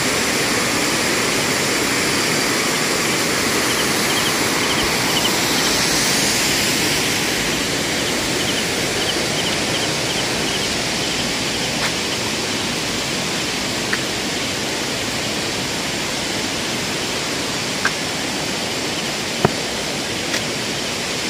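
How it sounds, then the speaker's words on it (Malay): A waterfall roars in a broad, loud, steady rush of falling water that fills the whole stretch without a break, with a few faint clicks and no talk. "Dan ini adalah kawasan air terjun."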